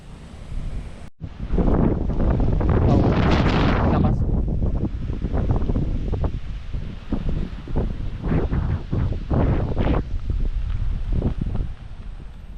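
Strong wind buffets a bamboo-framed DIY greenhouse in the rain, roaring close against the microphone in heavy, uneven gusts with a loud surge early on and choppy rushes after.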